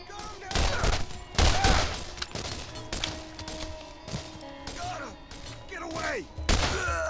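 Sniper shots from Borderlands ring out one after another at a steady pace, each a sharp crack with a short tail, alongside other in-game effects.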